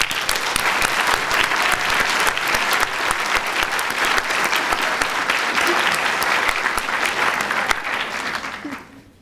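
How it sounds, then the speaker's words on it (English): An audience at a National Honor Society induction ceremony applauds in a dense, steady round of clapping that fills the hall for about nine seconds before tapering off at the end. "Please join me in thanking them with a round of applause."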